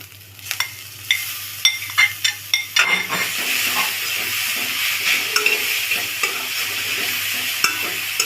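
Onion, green chilli and grated carrot sizzle in a pan while a spoon scrapes and stirs in a quick run of sharp clinks, then settles into a steady close frying hiss with occasional taps.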